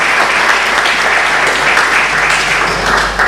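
Sustained applause from an audience at a Portuguese book launch event fills the room, loud and dense, steady throughout with no voices on top.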